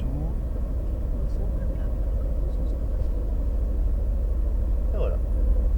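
A car's low engine rumble drones steadily as it maneuvers slowly into a parking spot between an Alpine and another car at a racing circuit. People talk over it.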